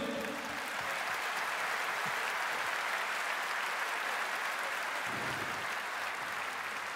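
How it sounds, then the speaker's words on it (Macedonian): Steady, sustained applause from a large audience, a dense wash of clapping that holds evenly throughout. "Ве молам еден голем аплауз за оркестрот и за бендот."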